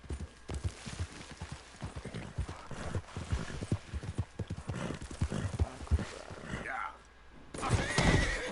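In Red Dead Redemption 2, a horse's hooves clip-clop in a quick, uneven rhythm, then the horse gives a loud whinny near the end, with brief talk mixed in.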